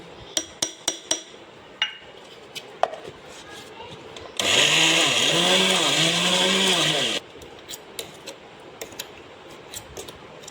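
A kitchen mixer grinder whirs loudly for about three seconds, grinding a rice flour mixture with a steady roaring buzz that warbles in pitch, framed by scattered clicks and knocks before and after.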